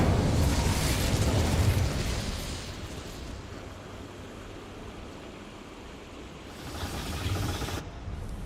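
Incendio fire spell in the wizarding game Hogwarts Legacy: a loud fiery burst that settles into a steady roaring hiss of flame, fading slightly, then swelling again briefly before cutting off.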